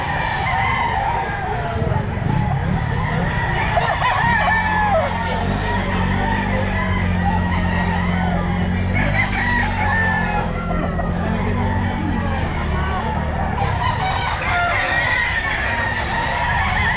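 A young stag gamecock crows amid a busy Grotto pet market, with other fowl clucking and a steady din of crowd chatter and traffic noise throughout.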